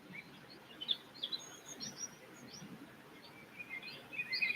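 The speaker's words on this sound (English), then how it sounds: "Let's get back to some peaceful sounds of birds and Mother Nature and God's creation." Birds chirping outdoors in natural surroundings: scattered, faint high calls and tweets come and go at a distance over a quiet background hiss.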